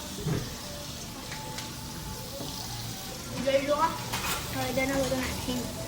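Whole spices tempered in hot oil give a steady, moderate sizzle with scattered crackles and some stirring noise, partly under faint background voices.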